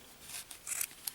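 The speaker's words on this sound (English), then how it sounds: "Just go on the side and cut through all the loops" Scissors snip through a bundle of crochet yarn loops for a pom-pom, a few quick close cuts with soft rustling, quiet and alone.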